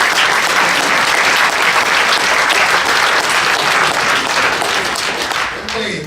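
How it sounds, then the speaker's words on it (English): Loud, dense applause from a crowd at a high school wrestling banquet, continuous many-handed clapping held at full strength before tapering slightly at the very end. "So please give a round of applause to Joe Brady."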